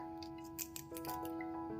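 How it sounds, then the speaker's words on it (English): Scissors snip kaffir lime leaf into thin slivers in a few quick, faint cuts over a steady quiet background hum. "Use the scissors to cut it."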